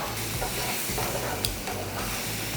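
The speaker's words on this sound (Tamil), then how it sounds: "கட் பண்ணி வச்சுருக்கிற வாழைப்பழத்தை இதில் சேர்த்து நல்லா வதக்கிக்கலாம்." Sliced banana sautés in hot ghee in a pan, giving a steady close sizzle with occasional stirring scrapes and soft clinks throughout.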